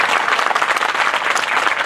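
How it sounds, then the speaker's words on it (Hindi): A crowd at a PTI rally and anniversary ceremony applauds in a sustained, dense roar of clapping, heard loud and unbroken with no voices above it. "जरा आपकी तालियों की गूंज बताएगी"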